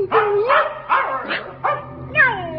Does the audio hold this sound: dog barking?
yes